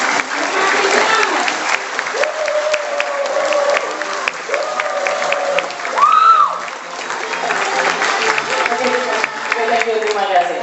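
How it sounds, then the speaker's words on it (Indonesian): Audience applause fills a hall at a product presentation in Jakarta: a steady wash of clapping from a large crowd runs throughout while a host's amplified voice talks over it. "Gedung ini akan terlihat meriah ketika Anda tepuk tangan yang sangat luar biasa sekali lagi."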